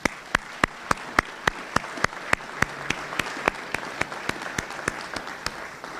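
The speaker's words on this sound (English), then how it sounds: "let's give one more hand and applause for our senior student" At a university senior student-athlete luncheon, one person claps in a steady, evenly spaced rhythm, about three claps per second, crisp and close, over a quiet room murmur.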